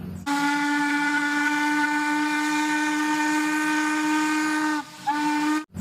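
Thomas toy train sounding its steam whistle: one steady, loud, breathy whistle held for about four and a half seconds, then a brief gap and a short second blast, close and with no talking.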